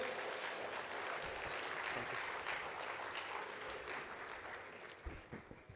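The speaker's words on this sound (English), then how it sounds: "You can do much better in clapping." Faint, distant audience clapping for a chapter chairman at an investment and real estate summit, a steady wash of many hands that thins slightly toward the end.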